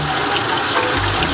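Water runs steadily from a faucet through a Venturi injector, making a loud, continuous rushing and gushing sound close by with no talking.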